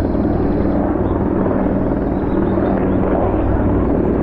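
Mountain rescue helicopter flying overhead in the mountains, a loud, steady rotor thrum and engine whine sustained throughout without a break.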